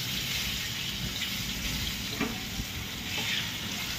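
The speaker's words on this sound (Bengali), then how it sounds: "মোটামুটি ভাজা হয়ে গিয়েছে আলুটি।" Potatoes sizzle and crackle steadily in hot oil with turmeric added, a close, continuous frying hiss with occasional soft stirring scrapes, for a soybean and potato curry.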